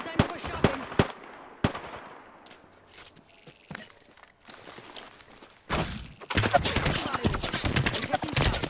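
Gunfire in the video game Apex Legends: scattered sharp shots early, then a dense, loud burst of rapid fire in the final seconds, with game effects in between.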